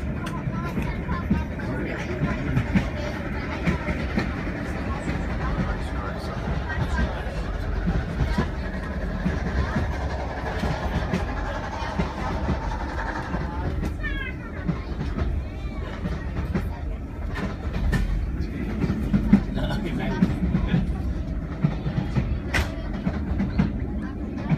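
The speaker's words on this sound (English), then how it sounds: "we did catch a ride on the train" Jacobite Express steam locomotive 62005 running on rails between Mallaig and Fort William, a steady low rumbling roll heard from inside the carriage, with passengers chattering throughout and a brief mechanical clatter partway through.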